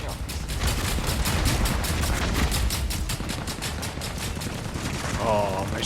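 Rapid mech gunfire in the Hawken Reborn shooter game, a dense, continuous burst of shots hammering steadily for several seconds, loud and close, with a brief whirring sound near the end.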